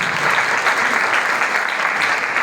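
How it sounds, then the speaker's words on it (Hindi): Full, steady applause from a church congregation during a Sunday service, dense and even with no speech over it. "तालियां दें।"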